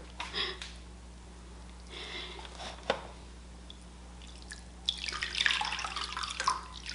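Water drips and splashes softly as freshly acid-dyed yarn in honey and amber tones is squeezed out by hand, with a faint trickle early, a sharp drip midway and a louder sloshing burst toward the end.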